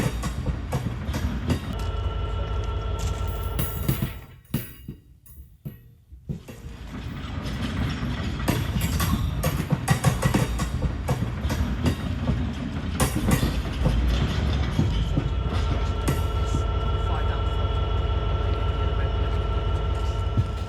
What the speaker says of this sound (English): we are around 65 tons in each wagon, so the train is good to go